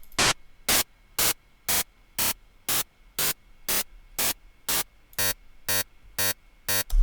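A fast, evenly spaced run of about thirteen short synthesized noise bursts from Ableton's Operator synth, hi-hat-like hisses at a steady tempo, with the later hits taking on a slightly tonal, ringing edge.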